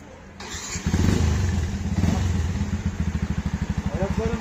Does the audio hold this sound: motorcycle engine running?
yes